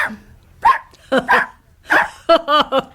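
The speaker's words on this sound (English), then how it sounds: "Whenever he barks 4 times, that means he wants his tea." A small dog barks in four sharp, yappy bursts, close and loud, with short gaps between the barks and no other sound around them.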